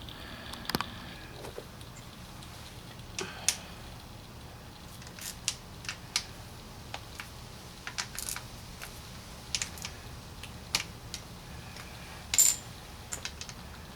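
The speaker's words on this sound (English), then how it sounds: "I'm going to remove the 4 bolts that hold the oil filter housing on." Small metallic clicks and light taps come from removing the four bolts on the oil filter housing of a 2015 Honda CB300F motorcycle. The sounds are faint, scattered and close, with nobody talking.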